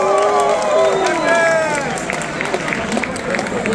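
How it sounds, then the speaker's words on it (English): A festival crowd at the Dutch Chili Fest 2025 cheers and applauds after contestants finish a Carolina Reaper chili, loud clapping and whoops with excited voices rising over it. "Give them a big cheer!"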